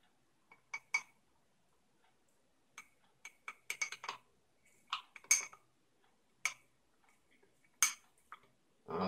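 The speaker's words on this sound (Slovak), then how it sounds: "Všetko to zamiešam." A spoon stirs a cocoa mixture in a bowl, making sparse, irregular light clinks and taps against the sides, quiet and close, with no talking.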